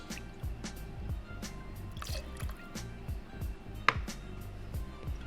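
Sweet vermouth pours into a cocktail glass, heard as soft, repeated drips and splashes of liquid with faint clinks, quiet and close.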